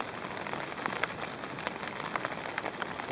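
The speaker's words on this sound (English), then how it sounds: "I can hear the rain." Steady rain falls at night on a summit camp, a dense, even patter of drops on a close surface with occasional sharper taps, continuous and moderately loud with no talk.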